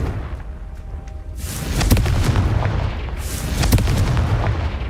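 A Confringo blasting spell explodes in Hogwarts Legacy with heavy booming blasts, two strong bursts with sharp crackling onsets, close and loud over a rumbling low backdrop.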